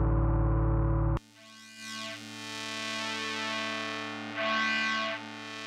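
A Moog Messenger synthesizer plays alone: a loud, buzzy low chord cuts off, then a sustained, distorted drone with slow, sweeping filter swells rises and falls twice.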